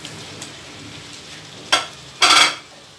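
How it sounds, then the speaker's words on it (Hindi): Chicken pieces drop into a pan of masala, giving two short bursts of sizzling against a faint background hiss, close and fairly loud. "अब इसमें चिकन डालकर"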